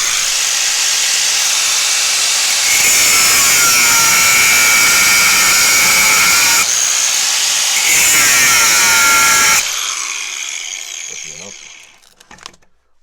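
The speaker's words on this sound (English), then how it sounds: "I will cut a deeper slot real quick" Hand or rotary tool cuts a deeper slot into a rusted screw head on an old Wilton Bullet vise, a loud, steady grinding hiss running in long bursts with brief pauses, then trailing off.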